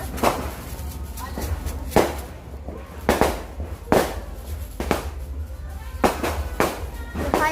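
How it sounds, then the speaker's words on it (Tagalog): New Year fireworks burst in a rapid string of sharp, loud bangs about every half second to second, echoing against a steady crowd murmur. "The fireworks, see?"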